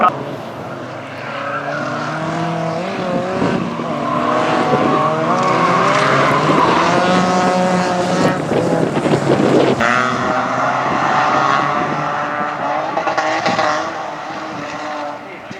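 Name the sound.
race cars cornering at a Finnish midsummer racing event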